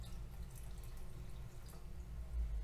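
Water poured into bread dough for a whole-grain loaf, a soft continuous trickle with faint drips, steady and fairly quiet throughout, no talk.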